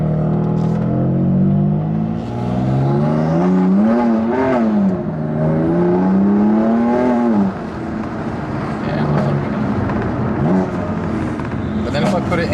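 A BMW M2 Competition engine running with rising and falling revs, loud and close, then settling to a lower steady hum. Someone talks over it the whole time.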